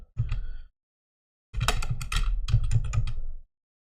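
Quick bursts of keystrokes on a computer keyboard, a short cluster followed by a pause and then a longer run of rapid typing, close and clear with no talking.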